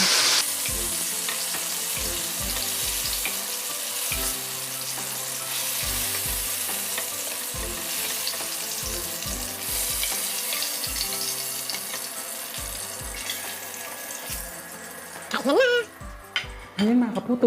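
Eggplant slices sizzling in hot oil in a pan for a Filipino fried eggplant dish, a steady frying crackle throughout, with heavier clattering and scraping handling noises building near the end.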